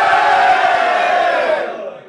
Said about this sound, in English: Can we have a cheer for Sunderland?